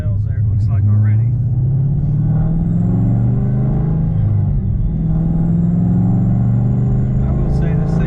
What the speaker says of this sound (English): I mean, it's a good sounding exhaust on it.